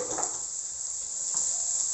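Food is stirred with a utensil in a hot pan after ground cumin and black pepper go in, giving a steady sizzle with soft scraping strokes near the start and again past the middle, close up and alone.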